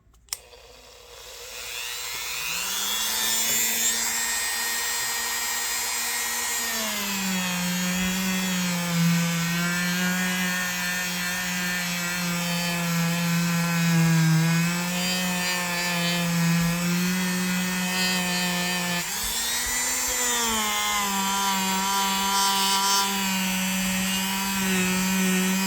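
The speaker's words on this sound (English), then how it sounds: "we start out with our rubbing compound. We'll see how we do on this blade." Buffing wheel loaded with rubbing compound, steady tonal whine, polishing an antique store-found blade; a continuous loud hum with shifting pitch as the blade is pressed and moved, no talk.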